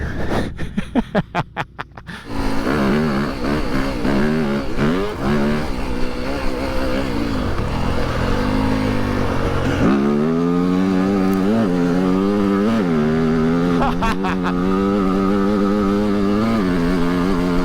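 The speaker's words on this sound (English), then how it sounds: "He's on a 300 2-stroke here." A 300cc two-stroke dirt bike being ridden, its loud, close engine sputtering and pulsing at first, then revving hard with a rising, buzzing whine that surges and falls as the rider works the throttle.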